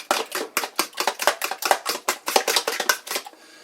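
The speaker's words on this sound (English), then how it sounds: "And I just whisk the eggs." Eggs whisked in a bowl for a custard-style French toast batter: a fast, even series of about twenty crisp taps and scrapes close by, alone without talk, ending abruptly.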